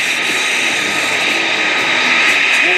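A World War II trainer airplane flies at an airshow, giving a steady, loud engine roar with a sustained whine, continuous and unbroken throughout.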